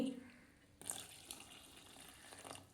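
Water pours steadily into a cooking pot, a soft continuous splashing that starts abruptly and runs at a quiet, close level.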